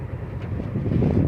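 A truck-trailer's air system lets out a steady, close rushing hiss as the gearbox is shifted from low range to high range, swelling slightly toward the end.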